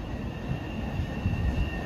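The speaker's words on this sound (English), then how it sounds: "Another Oak Grove train is approaching" An Oak Grove subway train approaches a Boston-area station platform, a steady rumbling roll with faint high wheel squeal over it, fairly close and continuous with no voices.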